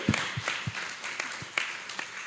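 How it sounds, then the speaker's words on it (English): Scattered audience clapping at an interview panel for a horror film, a small group producing sparse, uneven claps and a few louder hits rather than a full ovation, fairly close. "Can I get a round of applause for vampire movie?"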